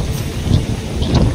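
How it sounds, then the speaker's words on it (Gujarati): Strong wind blusters against the microphone outdoors, a continuous loud rumbling roar with gusty swells and no speech. "પવન મસ્તીનો આવે ભાઈ"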